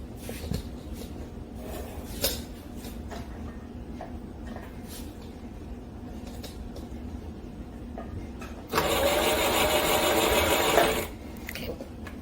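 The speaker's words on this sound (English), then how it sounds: "Put your bobbin in a position to actually wind." Sewing machine winding a bobbin: a faint motor hum with light clicks, then a louder high whirring run of about two seconds near the end as the pedal is pressed.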